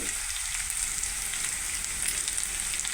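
Ginger garlic paste fries in a pan for jowar khichdi, giving a steady, loud, dense sizzle that holds unbroken throughout with no talking.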